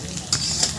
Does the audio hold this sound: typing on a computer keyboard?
no